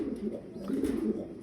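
Soft, low cooing from fancy foreign-breed pigeons kept on a farm, a brief rolling murmur heard up close with faint background noise.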